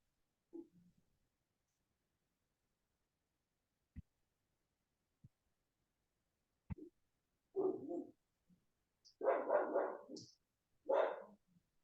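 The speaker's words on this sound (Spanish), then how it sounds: "No se escucha nada, solo su ladrido de tu perrito" A small dog barks in short sharp bursts, a few isolated yaps early on and then a cluster of louder barks near the end, heard over a quiet online call with clicks between.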